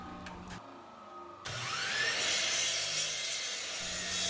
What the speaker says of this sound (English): I'm also going to use the disc sander to get the dovetail edges sanded down nice and flat as well